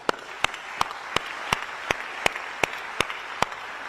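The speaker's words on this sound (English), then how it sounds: "so let's give them a round of applause." An audience at a Microsoft AI event in Malaysia applauds. Crisp claps land in a steady, evenly spaced beat over a softer bed of scattered clapping.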